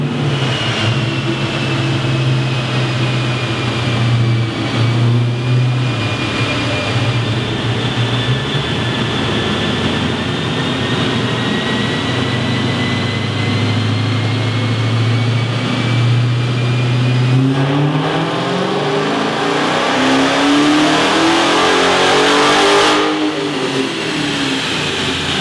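A car engine revs hard and steadily on a dyno, a loud sustained drone with rising and falling pitch as it climbs through the gears, ending in a sweeping rev near the close.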